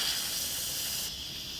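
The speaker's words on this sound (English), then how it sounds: "don't put your hand directly above the steam valve. When it is venting, just go to the side" An Instant Pot pressure cooker steam valve vents with a steady loud hiss, which drops off abruptly near the end.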